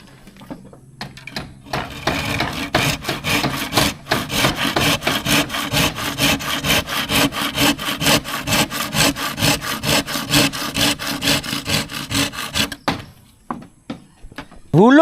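A hand saw cuts wood in fast, steady back-and-forth strokes for about eleven seconds, close by, then stops, during tree house construction.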